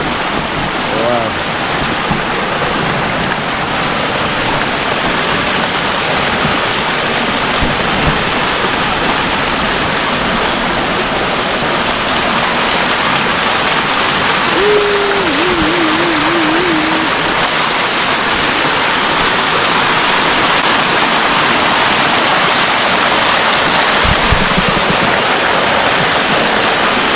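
Steady loud roar of the Bluefields River in Jamaica rushing close by, unbroken throughout, with occasional faint voices and small knocks buried under the water.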